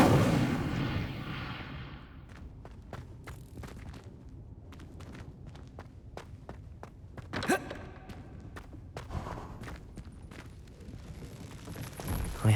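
A fire spell is cast in Hogwarts Legacy, heard as a string of sharp crackling bursts and whooshes over a low ambient bed, with a brighter flare partway through and a breathy sigh near the start.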